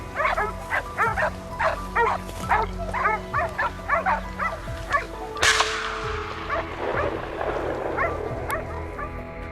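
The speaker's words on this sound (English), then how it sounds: "The loud barking of the hunting dogs deep in the bushes signaled that a trail had been found." Hunting dogs bark in dense bushes during a wild boar hunt, a run of sharp, repeated yelping barks in quick bursts, followed by a louder rustling crash and scattered further barks, fairly close.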